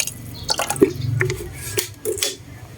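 Photosynthetic bacteria liquid is poured into a container of about ten litres of water, giving a brief close run of drips, small splashes and trickling sounds, with no talking.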